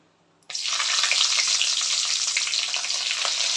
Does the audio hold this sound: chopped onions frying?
yes